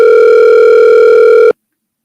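A steady telephone dial tone sounds as a phone call is being placed, loud and clean with a constant pitch, then cuts off abruptly about a second and a half in, leaving silence.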